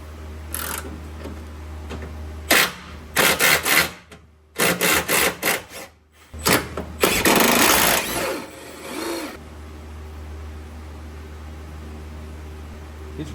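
Lower control arm bolts come out of a Honda Del Sol in bursts of harsh rasping, whirring tool noise separated by short pauses, loud and close, over a low steady hum.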